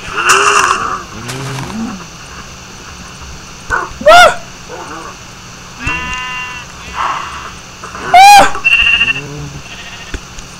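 Sheep bleat repeatedly in a video game among cows and other animals, with loud, close calls in bursts, while a voice talks and some barking-like sounds come through.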